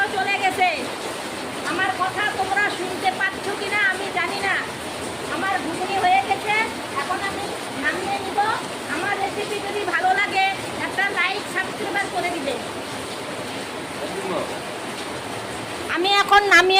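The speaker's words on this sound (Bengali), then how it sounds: "প্রচন্ড বৃষ্টি হচ্ছে" Heavy rain pours down as a steady, dense wash of noise that lasts throughout, with faint voices or other sounds partly buried underneath.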